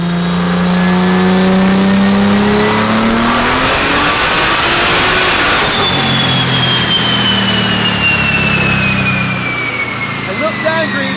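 A heavily tuned BMW making just under 1,200 brake horsepower screams as its revs climb to a high peak, drop sharply on a gear change, then build again. It stays very loud and close throughout, with voices underneath.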